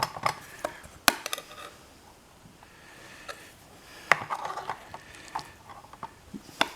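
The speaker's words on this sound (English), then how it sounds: "So I will spoon him up a little bit here for him to try." Metal spoon scraping and clinking against a pot while dishing up a corned beef dish, a scattering of sharp taps and scrapes, some louder, with quiet gaps between and no talking.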